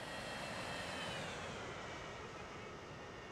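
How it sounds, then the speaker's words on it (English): An airplane comes in to land in the video game Transport Fever 2, heard as a steady, loud broadband engine roar that holds for about three seconds and eases slightly toward the end, with no talking. "As we watch the plane come into play, come into land."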